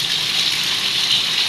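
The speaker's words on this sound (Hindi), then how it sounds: "बहुत तेज बारिश हो रही है।" Heavy rain pours as water floods into a house through its walls, a loud, steady, hissing rush of water with no break.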